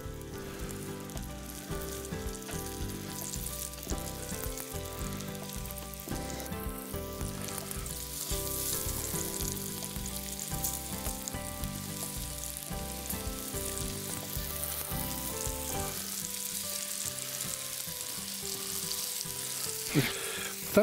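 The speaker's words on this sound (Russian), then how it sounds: "Предварительно посолим для того, чтобы обезопасить себя от брызг воды. И начинаем жарить." A small batch of salted potatoes sizzling and frying in a pan, a steady, even crackle that continues throughout with no talk over it, under faint background music.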